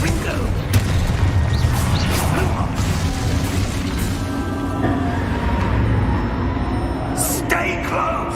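A Confringo fire spell explodes in a Harry Potter-style video game battle, a loud sustained boom with rumbling debris and mechanical clatter under continuous game noise and talking.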